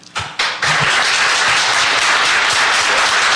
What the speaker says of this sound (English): Folks, could you please hold your applause so we can keep moving?